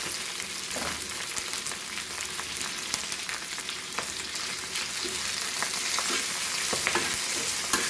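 Beef and pak choi pieces frying in a pan for a beef pepper stir fry, giving a steady, close, loud sizzle with crackling oil and occasional stirring clatter, no talking.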